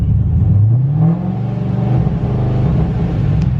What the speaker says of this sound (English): Let's go ahead and test out the rev limiter first.